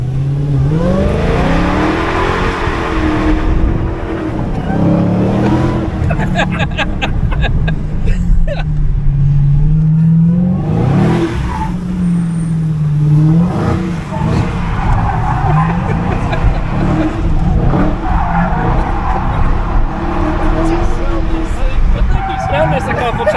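A 717 hp Dodge Hellcat accelerating hard on a ride along at a spring Indy auction event, engine revving and rising in pitch through gear changes, with tires squealing, heard from inside the car under passengers' talk.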